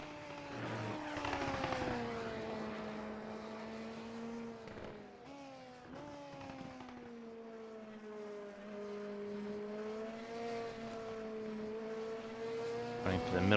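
Race cars lap the track during practice at the Race of Sao Paulo, a steady droning engine note that wavers and shifts with gear changes and passing cars, under light commentary.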